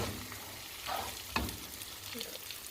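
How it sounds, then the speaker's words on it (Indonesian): Long beans stirred in a sizzling frying pan for Manado-style rica rodo: a steady close fry with a soft scrape and one sharp utensil knock midway, no voices. "kita masukin sayur kacangnya karena dia agak lama ya. Kita aduk ya guys"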